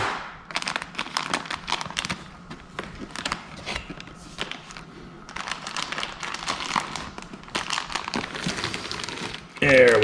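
Plastic grow bag pulled from a cardboard oyster mushroom kit box, close and busy crinkling and rustling in bursts, with a short voice near the end.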